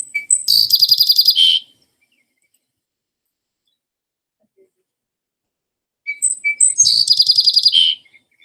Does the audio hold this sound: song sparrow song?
yes